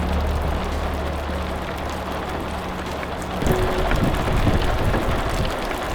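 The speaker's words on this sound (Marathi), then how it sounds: "मुसळधार नसला तरी सातंदर सुरू असलेल्या पावसामुळे वाट निसरडी झाली" Steady monsoon rain falls on a slippery trail at Irshalgad fort, a constant broadband patter with a low rumble, growing slightly louder midway.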